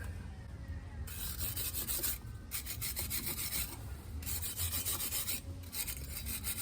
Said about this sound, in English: So I'm just using a wire brush.